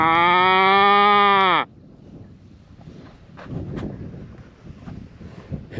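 A human voice imitates a long, drawn-out calf moo to call Santa Gertrudis cattle in a field. The loud call is followed by wind buffeting the microphone and faint outdoor rustling.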